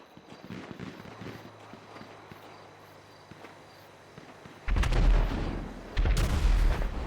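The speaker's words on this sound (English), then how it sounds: "as you hear more explosion going on from the fire station, the gas station" Explosions at a gas station during a nighttime fire, two heavy booming bursts rising abruptly out of steady low background rumble, loud and somewhat distant.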